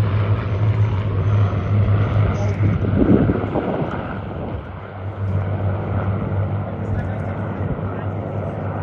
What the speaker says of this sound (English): This is the last pass of the formation